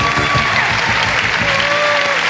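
Applause from an audience, a continuous dense patter of clapping running throughout, with a faint tonal sound and some background voice mixed underneath.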